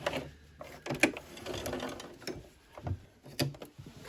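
A sewing machine stitches a skirt in short, quiet bursts of mechanical clatter separated by brief pauses, close by and without voices.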